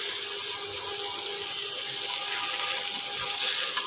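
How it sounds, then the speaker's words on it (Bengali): Water pours steadily into a cooking pot of Bengali shukto curry already seasoned with turmeric and salt, a continuous hissing, splashing stream close by with no talk. "এবার একটু জল দিয়ে দেবো।"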